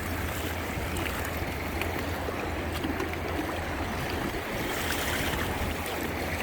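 Creek water from a one-gallon bucket washing gravel down a sluice at Cajon Creek, a steady close rushing and splashing flow with faint gritty movement underneath, continuous at moderate level.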